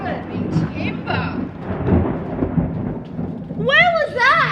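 Loud thunder from a nearby lightning strike rumbles heavily through a rainy storm, a long low roll that swells and fades, with shrill voices rising near the end.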